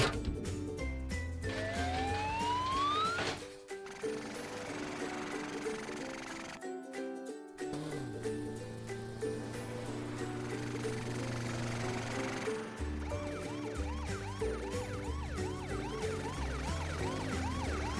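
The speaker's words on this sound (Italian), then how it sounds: "stai chiedendo rinforzi a Frank il camion dei pompieri." Wailing cartoon fire truck siren sounds over a busy animated-series soundtrack with music and rumbling effects, loud throughout with rising and falling tones, no voices.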